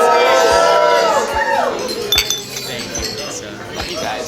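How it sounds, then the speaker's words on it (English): Wedding guests at Irondequoit Country Club clink glasses in a toast. A flurry of bright glass chinks rings out close by over a murmuring crowd and cheerful chatter. "I now invite you to raise your glass and cheers to the Murskys."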